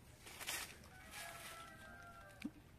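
Bantam chicken clucking close by, a few soft clucks over a quiet hissy outdoor background, faint overall with a short sharp note near the end.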